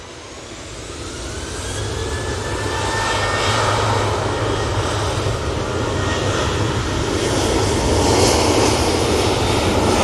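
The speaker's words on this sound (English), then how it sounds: "It's the Ryanair from Porto." A Ryanair jet airliner arriving from Porto at Manchester Airport roars past, its engine noise swelling from a broad rumble to a loud sustained whine and holding near full strength to the end.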